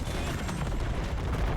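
A shadow VTOL blows up in the Roblox-style game Jailbreak, a dense, continuous rumbling blast with crackling bursts layered throughout, loud and sustained from start to finish.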